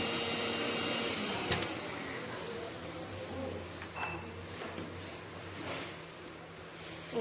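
A mixer grinder grinds mustard seeds and cashews into a paste with a steady, fairly soft whirring hum that runs throughout, slowly tapering without pause.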